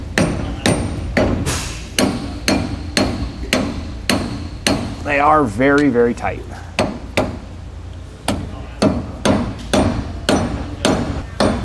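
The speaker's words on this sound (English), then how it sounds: "you don't ding up the cap while you're trying to hammer it in" Steady, evenly spaced metallic hammer taps ring out close by as a trailer hub cap is hammered into place, continuing throughout, with a person briefly talking over them midway.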